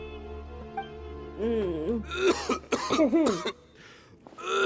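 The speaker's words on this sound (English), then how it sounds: "Why is he coughing so much?" A voice coughs and clears his throat in several rough, harsh bursts, fairly close, with a low steady hum underneath; a character in the video game Genshin Impact.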